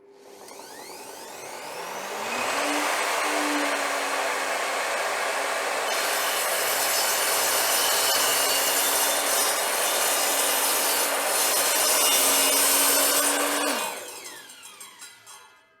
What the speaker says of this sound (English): First test, Trend blade and the melamine board.